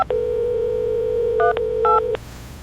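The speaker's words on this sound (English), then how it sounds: "Suddenly, Ethan's phone rang again, and this time he saw that Mom was finally calling him" A phone call tone: a long steady electronic tone broken by two brief bursts of touch-tone beeps, loud and close, with no talking.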